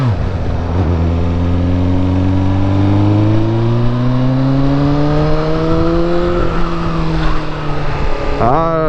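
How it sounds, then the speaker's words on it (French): A revving sport motorcycle rides a winding road used for a yearly hill climb race, its engine note loud and close as it climbs steadily in pitch, then drops and picks up again near the end. "Ah, c'est une petite boule de nerfs cette moto"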